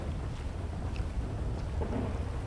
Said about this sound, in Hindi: बिजली वगैरह कड़क रही है